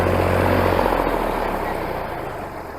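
A Massey Ferguson 135 tractor's engine running close by, a loud, throbbing low diesel rumble that drops slightly in pitch and fades a little toward the end.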